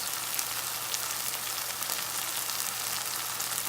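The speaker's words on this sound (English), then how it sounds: "Now we fry it for a few more minutes and grind it." Masala with green chili and dry methi leaves frying in a pan for an Indian tofu curry, giving a steady, dense crackling sizzle that runs unbroken throughout with no voices.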